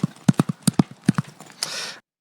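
Horse hooves clip-clopping in a quick irregular galloping rhythm, a series of sharp close thuds that fade into a soft breathy rush at the end, with no voices.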